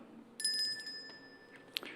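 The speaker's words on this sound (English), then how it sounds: "I'll ring the bell, which indicates that you've got 30 seconds to conclude your presentation." A small bell at a council planning committee meeting rings with a bright, sustained chime that slowly decays, followed by a fainter, brief second ding near the end in a quiet room.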